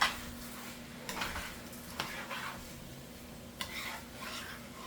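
Rice with gandules stirred in a cooking pot, a few distinct spoon scrapes and strokes over a low sizzle, close and moderately quiet.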